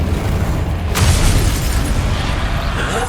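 An Incendio fire spell blast in a Harry Potter game, with a sharp burst about a second in that swells into a loud, sustained roaring rumble.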